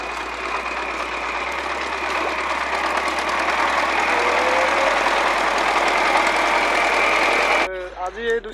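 A tractor engine runs in a wet paddy field with a steady, close mechanical hum that holds for most of the clip before cutting out, followed by a brief voice at the end.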